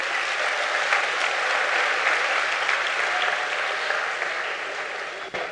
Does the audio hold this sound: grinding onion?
no